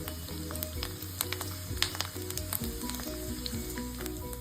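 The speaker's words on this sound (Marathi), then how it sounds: "आता आपण हिला तळून बघूया त्यासाठी मी तेल कडकडीत तापवून घेतलं आहे आणि एक एक चकली टाकूया" Sabudana and potato chakli fry in very hot oil, giving a busy, crackling sizzle with frequent sharp pops and bubbling that stays close and steady without talk.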